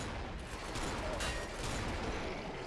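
Trench gun fire in the co-op shooter Killing Floor (Half-Life 2 mod), a dense, steady crackle of gunshots and mechanical clatter sustained throughout with no talk.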